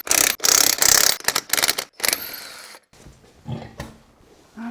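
Mechanical work on an E92 car wheel coming off: loud bursts of rattling tool noise, likely an impact wrench on the lug nuts, then quieter clunks and handling sounds.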